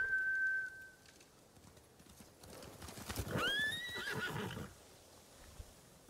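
In the samurai-era game Ghost of Tsushima, a horse's hooves clip-clop briefly before the horse gives a loud, rising neigh that fades out, with a faint whistle beforehand.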